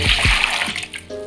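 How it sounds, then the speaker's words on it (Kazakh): Water splashes and gurgles as it is poured into a bowl to start a Kazakh baursak dough, a short close pour that trails off. "Алдымен суымызды құйып аламыз."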